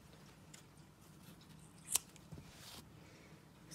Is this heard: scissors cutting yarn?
yes